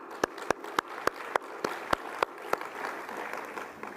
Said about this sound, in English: please, a round of applause in thanks for our speakers.